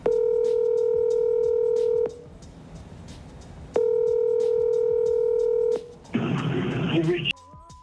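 A landline telephone gives a steady dial tone twice, with a stretch of hiss between, then a short burst of dialing tones as a call goes out to a real estate agent. The sound is loud and close.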